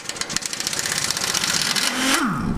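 An impact wrench hammers on a nut on a Ford F100 truck frame, a rapid, steady mechanical rattle lasting about two seconds before the pitch sweeps upward and falls away near the end, close and fairly loud.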